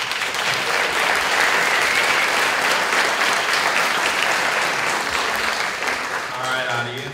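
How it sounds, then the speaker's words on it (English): Sustained, loud audience clapping at a congressional candidate forum in Lenexa, Kansas, runs for several seconds and begins to taper as a voice comes in near the end. "audience, please remember to hold your applause"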